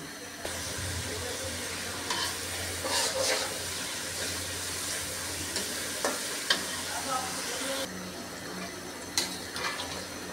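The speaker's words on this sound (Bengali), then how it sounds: "মাংস রান্নার জন্য পেঁয়াজ দিয়ে দিছি।" Onions fry in a pan as the base for beef biryani, a steady broad sizzle throughout with occasional clinks and stirring scrapes, moderately quiet and close.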